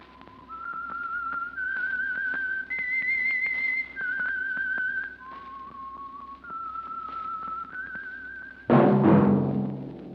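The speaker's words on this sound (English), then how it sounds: "That whistle is your signal for the Signal Oil Program, The Whistler." A lone whistler carries the signature melody of The Whistler, a Signal Oil radio program, in a slow sequence of clear sustained notes, ending with a louder burst of orchestral or effects sound.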